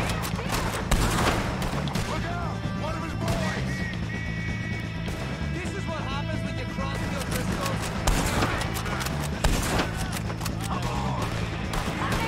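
Gunfire in the video game Red Dead Redemption 2, a loud fusillade of repeated shots with sharp bursts scattered across a busy game soundscape, mixed with someone talking over the action.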